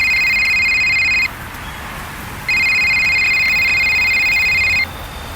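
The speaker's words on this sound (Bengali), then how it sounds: "এমন সময় আমার ফোনটা বেজে উঠল" A mobile phone rings loudly and close, sounding two long electronic tone bursts separated by a short pause over a steady background hiss.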